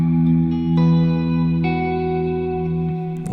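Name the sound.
guitar through stereo reverb pedal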